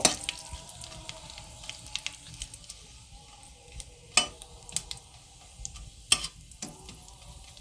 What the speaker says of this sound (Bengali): শুকনো লঙ্কা ও তেজপাতা দিয়ে এটা একটু নেড়ে নেব।